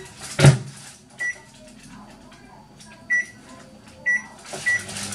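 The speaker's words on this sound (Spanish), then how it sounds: "Bien tapadico al microondas. Unos 20 minutos." A microwave oven runs in a home kitchen, with a door or cupboard thud at the start and several short electronic beeps over a low background hum.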